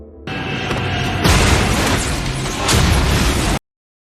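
A loud, roaring explosion with sustained rumbling debris noise that swells twice before cutting off abruptly.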